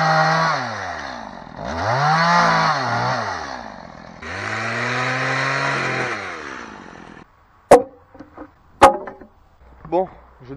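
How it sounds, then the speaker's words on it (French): A chainsaw cuts wooden stakes about 1.70 m long into sections, its engine rising and falling in two long, loud revving passes. A few sharp knocks and scrapes of wood follow near the end. "je vais couper une section, voilà, avec la tronçonneuse"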